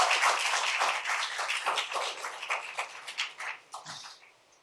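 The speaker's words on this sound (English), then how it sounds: "Another round of applause for Bernard Coburn, please." A small audience at a Caribbean literary festival in Brooklyn claps for a poet, close, distinct handclaps that start full and thin out, trailing off to a few scattered claps near the end.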